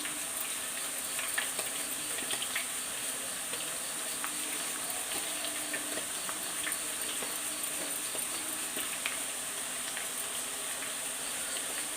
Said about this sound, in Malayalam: നമ്മൾ വെളിച്ചെണ്ണയ്ക്കകത്താണ് വറക്കുന്നത് കേട്ടോ